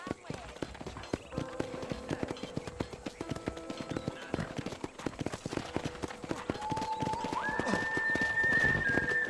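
Horses in a ranch corral in the video game Red Dead Redemption, with hooves clip-clopping and an occasional whinny under steady background sound, while a voice talks over them.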